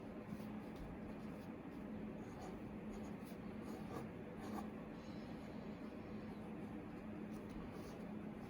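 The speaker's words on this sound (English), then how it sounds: "I'm trying to draw quickly" Quick pencil or marker strokes drawing on paper, a steady soft scratching that runs continuously at a faint level throughout, with no speech.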